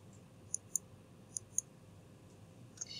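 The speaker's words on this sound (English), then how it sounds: "You're going to click on grades." Computer mouse clicking while opening grades in a Schoology student account, a few sharp light clicks in two quick pairs and a faint later one, close and quiet with no one talking.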